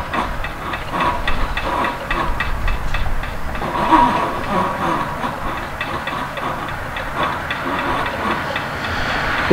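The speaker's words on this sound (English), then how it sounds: "that was our outbound Metra train" An outbound Metra commuter train passes at the Spaulding crossing, a loud, steady rumble and hiss of rail cars rolling by close up, continuous with no talk.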